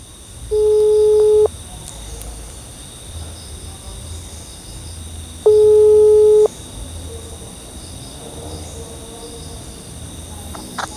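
An Indonesian phone call rings out with two steady electronic ringback tones, each about a second long and about five seconds apart, over a constant outdoor chirring of crickets or insects.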